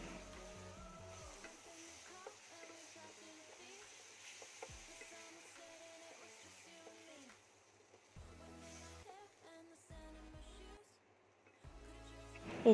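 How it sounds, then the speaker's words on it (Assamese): Finely chopped tomatoes fry in a pan for a coconut-milk paneer dish, giving a faint, steady sizzle with occasional stirring under soft background music. "বিলাহীখিনি যেতিয়ালৈ গলি নাযায় তেতিয়ালৈ ফ্ৰাই"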